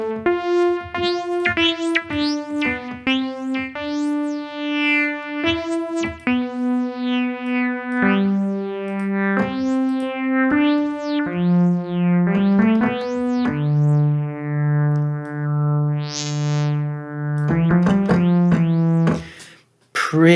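Native Instruments Massive X software synth plays a melodic line of sustained, buzzy tones whose timbre sweeps and shifts as different filter models are switched, loud and alone with no talking.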